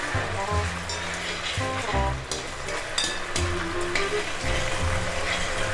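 Tomato sauce simmers on a stovetop for cheese balls, giving a steady loud bubbling sizzle with low rhythmic stirring or bubbling pulses throughout, no voices.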